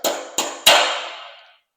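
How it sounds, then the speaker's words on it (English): A hammer taps a pin into a mast top fitting on a Topcat catamaran three times, giving short metallic strikes that ring on briefly. Each tap is close and clear, with no voices. "if it doesn't slide in easily, just give it a gentle tap with the hammer to get it in place"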